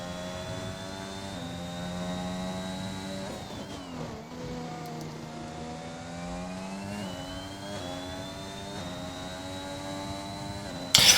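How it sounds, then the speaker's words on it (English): A Honda race car engine heard from on board during a round in Brazil: a steady, high harmonic whine that rises and falls through upshifts and lifts, with no talk over it. "listen to the Honda engine for a little while"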